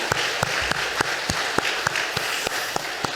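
A church congregation applauds during a Sunday service, a steady wash of clapping with sharp individual claps standing out at regular intervals, moderately loud and close.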